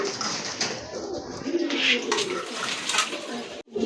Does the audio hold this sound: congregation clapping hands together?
no